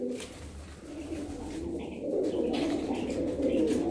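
Pigeons kept for sale, birds of Bulgarian origin, give soft low cooing that rises and falls in a steady murmur, with a few faint chirps over background noise.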